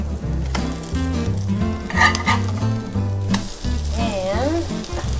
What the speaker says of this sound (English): I can hear more sizzle.